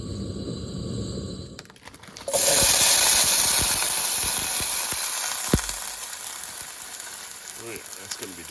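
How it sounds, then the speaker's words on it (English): Onions and peppers saute in a hot pan at a campsite in the Grand Tetons, Wyoming: a loud, steady hiss starts abruptly after a quiet opening and holds near and continuous, with scattered clicks and light clatter on top. "So, we're going to fire this up and first saute some onions and peppers"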